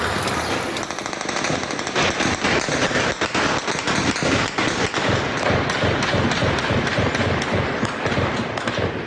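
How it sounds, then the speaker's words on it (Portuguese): Gunfire during a police operation in Rio de Janeiro: dense, rapid volleys of loud shots crackling almost without pause, overlapping bursts at close to middle distance, with no talk. "Esse vídeo mostra quase 200 disparos em apenas 1 minuto."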